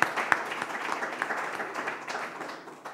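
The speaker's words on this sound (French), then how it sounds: "Donc on peut les applaudir." Applause in a church congregation for four baptism candidates, a steady wash of clapping with a few sharper nearby claps, fairly even and moderately loud throughout, without talk.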